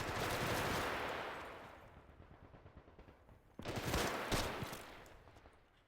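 Bursts of machine gun fire in a WW2 Pacific battle at Saipan video game, a long rattling volley fading out, then another close, loud burst of rapid shots.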